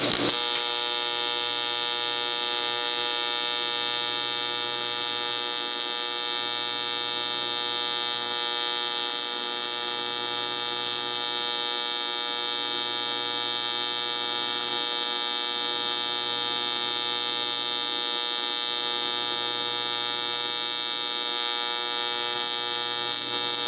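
An aluminum car wheel is welded with a steady, high-pitched electrical buzz and hum that hold a constant tone throughout, with a faint rhythmic pulsing underneath.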